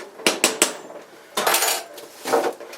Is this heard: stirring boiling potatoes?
yes